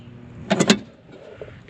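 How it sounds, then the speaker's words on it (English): A short buzzing whir as the electric motor on a farm machine with a suspected bad capacitor tries to start, rising in a brief two-pulse burst and then dropping back to a low background hum. "Now the motor's not firing."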